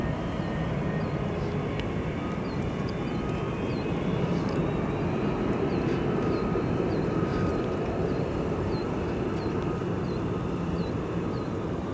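An Icelandair jet in its 100-year Independence livery departs O'Hare, heard as a steady, loud, broadband engine roar that holds for the full stretch with no speech.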